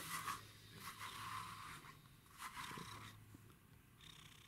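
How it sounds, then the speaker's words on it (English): A cat purrs softly and steadily in a quiet setting, the low rhythmic rumble close but faint, with a few light rustling scrapes. "listen to the purring"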